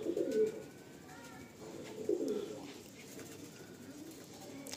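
Madrasi pigeons at a seller's loft in Garia, Kolkata, giving low, soft repeated coos in two clear bursts over faint background hiss, with quieter murmuring coos in between.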